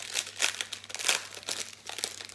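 Plastic bags of diamond painting diamonds being opened, close continuous crinkling and rustling in uneven bursts.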